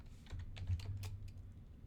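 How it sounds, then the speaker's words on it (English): Quiet, steady typing on a computer keyboard as a prompt is entered, a run of soft, close key clicks lasting a couple of seconds with no talking. "let's go back to Copilot and type in,"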